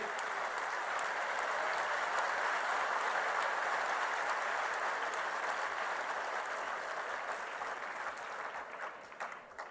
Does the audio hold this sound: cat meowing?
no